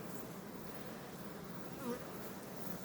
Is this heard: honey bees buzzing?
yes